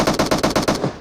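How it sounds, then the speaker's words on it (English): Automatic gunfire from PUBG Mobile, a rapid burst of about six loud, evenly spaced shots that ends in a short decaying tail, with no voices. "Gunfire behind me."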